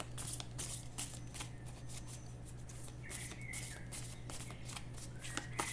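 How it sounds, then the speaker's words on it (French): Oracle cards from the Oracle Augure Rouge deck by Manufacture des Merveilles being shuffled by hand, a steady run of soft papery riffles and flutters, close and quiet over a low hum. "Les cartes, je trouve qu'elles se mélangent bien."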